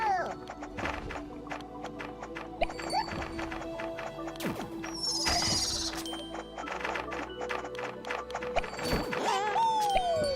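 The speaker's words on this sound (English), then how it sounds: "Now I just realized that the seahorse sounds like an actual horse." A seahorse creature in the underwater video game FlutterBug Glowfish gives horse-like whinnies and clip-clop knocks, mixed with sweeping tones and other game effects at a moderate level.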